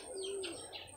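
Soft bird calls by a rice field in the Philippines, a low cooing note followed by a few higher chirps, fairly close over faint background noise.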